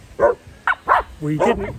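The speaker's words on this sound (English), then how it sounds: "Sorry about the dogs. They're not the favourite things at the moment." Dogs inside a van give a few sharp, close barks and yips in quick bursts, mixed with brief speech from a person nearby.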